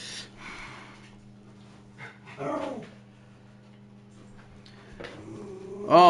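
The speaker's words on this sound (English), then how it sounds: "And now the dogs are killing each other." Dogs bark and scuffle in a fight: scattered yelps, snorts and growls at moderate volume over a steady low hum, with a sharper bark at the end.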